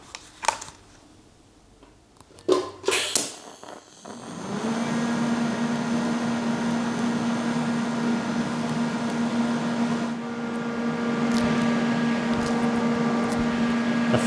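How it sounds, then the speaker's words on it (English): An extraction fan starts up in a workshop after TIG welding a filled V cut in a Harrison universal mill table screw, a steady whirring drone with a low hum that runs on after a few clicks. "The fan will be going for a minute or two."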